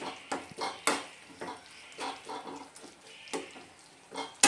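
Papaya chutney with cashews and raisins being stirred in a pan: soft, irregular scrapes and clinks of a spoon against metal, with faint sizzling underneath.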